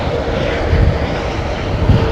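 A jet airliner decelerates hard on the runway at London Heathrow during stormy weather, giving a continuous broad engine and brake roar with low rumbling surges, heard from a distance.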